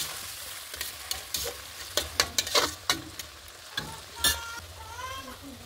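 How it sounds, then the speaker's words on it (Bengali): Chopped onion frying in a pan with whole cumin, cardamom and cinnamon, a steady close sizzle broken by repeated scraping stirs and clinks of a spatula, with a faint bird or cat-like call near the end. "এখন পেঁয়াজটা অল্প ভেজে নেব।"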